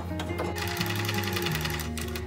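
A sewing machine stitches quilted fabric for a three-pocket zippered fabric purse, running in a continuous fast mechanical whir with a steady needle rhythm, close and loud.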